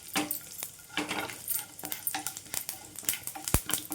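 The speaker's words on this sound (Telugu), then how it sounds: "ఇవన్నీ కూడా మంచిగా వేయించుకోవాలి." Dried red chillies and urad dal fry in a pan for tamarind chutney, with soft sizzling broken by repeated stirring scrapes and clinks of a spoon against the metal, close and irregular.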